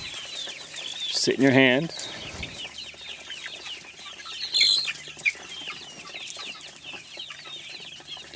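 Rhode Island Red chickens at a home flock cluck and squawk nearby, with a sharp call early and another burst midway over ongoing soft clucking and rustling, while a person speaks briefly.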